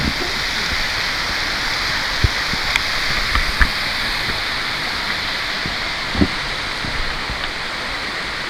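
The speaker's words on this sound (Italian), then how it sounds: "E comunque della deviazione di questa cascata, la cascata di Pissavaca" Steady broadband rush of the Pissavaca waterfall, a constant loud roar of falling water with a few faint knocks and bumps nearby.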